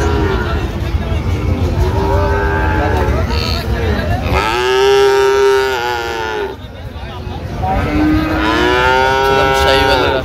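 A Sahiwal bull bellows at a busy Dhaka cattle market, with two or three long, loud, drawn-out moos rising over crowd chatter and background market noise.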